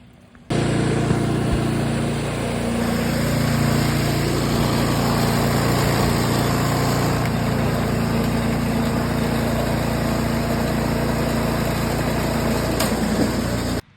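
A Craftsman 27 inch snowblower engine with intermittent traction starts up and runs at a loud, steady, high-pitched drone that holds unbroken, then cuts off abruptly at the end.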